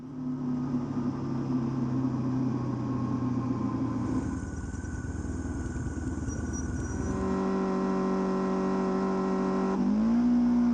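A racing motorcycle roars onboard at Oulton Park: a loud, high engine note climbs through the revs, drops with a gear change, then climbs again in a steady, close-up race pull.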